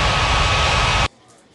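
A jet airliner in an air traffic control game at Ngurah Rai Bali International Airport roars loudly and steadily for about a second during takeoff, then cuts off abruptly to near silence.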